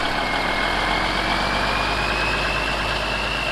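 A 350 Big Cam diesel truck engine with a new injection pump runs steadily at a loud, close idle, a dense continuous rumble with a faint high whine riding over it, no voices.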